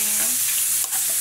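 Shrimp fry in a pan with a loud, continuous sizzle as they are stirred, and a quick scrape of the utensil is heard near the end.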